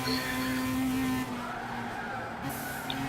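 Race cars in Gran Turismo 6 on the Deep Forest track, engines droning with tyre skid and squeal through the corners, loud and continuous.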